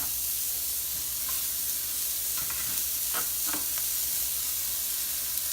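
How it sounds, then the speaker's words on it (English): Onions tossed without oil into a hot pan coated with browned chicken drippings, giving a steady loud sizzle and hiss, with a few scraping stirs and light knocks breaking through the continuous frying noise. "Take all my onions and take them and toss them"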